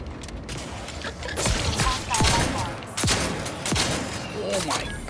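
Shotgun blasts in Outer Worlds 2 gameplay: a few loud booming shots spaced about a second apart amid clattering game effects, with a voice talking over them.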